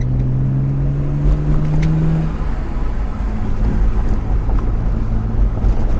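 Loud, continuous rumble of a modified 1991 Nissan Skyline R32 GT-R with coilovers driving over a very rough road, engine drone with a fading tone, constant low thumping and road noise from inside.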